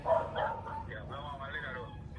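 A dog gives a few short yips and barks with whimpering tones, mixed in with a voice talking over it in an outdoor setting. The sound is moderately close and steady.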